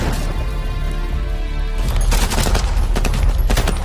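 A film shootout erupts into rapid, dense gunfire, sharp bursts of shots rattling together with crashes over a loud, busy action soundtrack, close and intense throughout.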